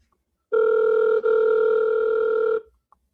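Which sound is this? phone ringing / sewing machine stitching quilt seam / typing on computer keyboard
phone ringing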